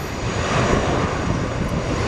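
An American Eagle airplane engine at an air show gives a loud, steady, close roar that holds evenly throughout, with no talk.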